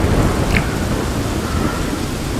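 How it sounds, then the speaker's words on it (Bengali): A thunderstorm sound effect with heavy rain: a dense, loud downpour hiss over a low thunder rumble that is strongest at the start and then settles into steady roaring rain. "অনেক জোরে বিদ্যুৎ চমকাচ্ছে, বৃষ্টি উঠছে, প্রচুর বৃষ্টি"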